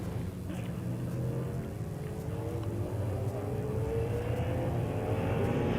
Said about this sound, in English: You can just hear the rumble of those big V8s as they come behind us.